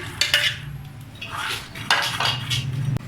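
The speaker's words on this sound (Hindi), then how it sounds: "ये हम चने डाल रहे हैं" Soaked black chickpeas tumble into a metal pressure cooker in rattling bursts, with clinks of a spoon against the pot.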